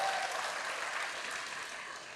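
A church congregation clapping, a short burst of dense, even applause that fades slightly over two seconds, fairly distant and without speech.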